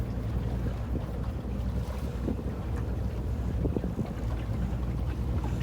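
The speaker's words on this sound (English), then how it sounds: "So I'm going to turn the boat round." A commercial beach fishing boat's engine rumbles steadily up close as the boat turns around at sea, with wind buffeting the microphone and water sloshing against the hull.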